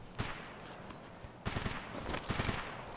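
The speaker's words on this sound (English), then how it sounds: "This may be where the shots were coming from." Distant bursts of gunfire in Escape From Tarkov, a short volley followed by a longer rattling series of shots, muffled and faint over a noisy in-game background.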